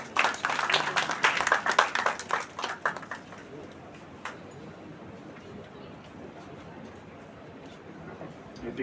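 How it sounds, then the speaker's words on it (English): A seminar audience welcomes a speaker with a burst of clapping that lasts about three seconds and then fades into a quiet hall with only faint stray sounds. "Please welcome sir with huge round of applause"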